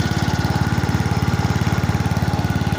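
A 1988 Simplicity 7116H garden tractor engine runs close by with a fast, steady chugging pulse, its cold transmission adding a whine over the rhythmic engine beat.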